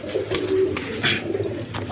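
Red pigeons, a pair, giving soft, low throaty coos at close range, two or three short rolling calls over a quiet hiss.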